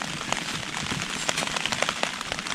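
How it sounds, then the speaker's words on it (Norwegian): Steady rain patters on a tent, dense and close, with gusting wind behind it on a mountain trip in rough weather. "som du kanskje hører, så regner det fortsatt på teltet, og det blåser en del"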